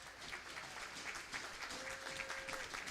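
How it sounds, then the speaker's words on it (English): A faint, steady patter of clapping from spectators at a squirt-level youth ice hockey game, rewarding a young player who got back up and skated off, rising and falling gently over a few seconds. "Nice round of applause there for that young man"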